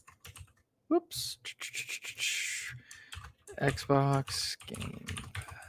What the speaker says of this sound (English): keyboard is probably really loud for you guys